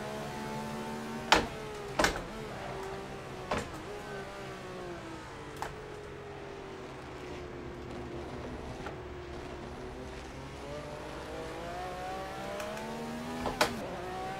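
A Ferrari 312 engine in a historic racing simulator holds a sustained, droning rev that rises and falls, with a few sharp clicks and knocks on top and no talk.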